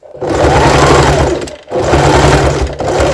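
A sewing machine stitches over pinned fabric in two loud, rapid bursts of needle clatter, with a brief stop in between, heard up close.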